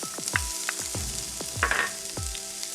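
Garlic, onion and scallion hitting hot oil in a pan for a spicy curry seitan, a steady close sizzle with repeated scraping and stirring strokes and the occasional clink, no talking.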